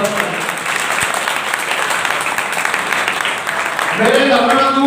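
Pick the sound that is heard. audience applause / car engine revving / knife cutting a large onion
audience applause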